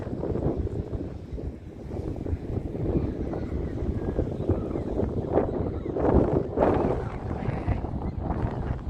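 Wind blowing by the sea at a rocky shoreline with rockpools, a steady loud gusty rush buffeting the microphone throughout, swelling briefly near the end, with no clear talking.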